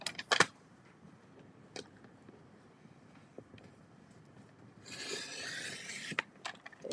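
A paper trimmer slices the thin white edges off a sheet of card, a broad rasping cut near the end after scattered small taps and rubs of paper handling, close and fairly quiet.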